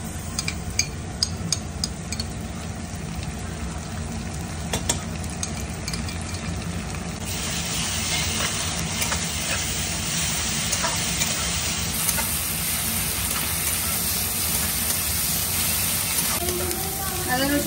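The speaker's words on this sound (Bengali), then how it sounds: "এবারে আদা রসুন বাটাটা দিয়ে দিলাম" Ginger-garlic paste sizzles steadily in a hot pan over fried onions, a continuous close frying hiss throughout with occasional stirring clicks.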